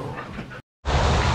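Husky dogs give dense, noisy barks and yips, loud and close. They fill the clip except for a brief silent gap in the middle.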